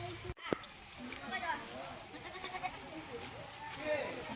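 Goat bleating outdoors: several wavering, quavering bleats repeat across the stretch at moderate distance, fairly faint over a low background hum.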